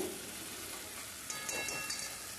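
Tomato and ginger-garlic paste frying in oil for a chicken curry, a soft, steady sizzle heard fairly faint and close, with slightly brighter crackles partway through.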